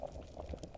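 Liquid bubbles in a brewing pot in the Brewpub Simulator video game, a faint, soft burbling with small pops, quiet and short with no voice over it.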